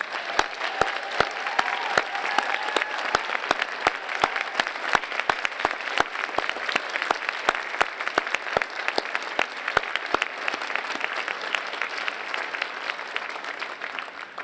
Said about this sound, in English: will our honorees and faculty please join me in giving a round of applause for our audience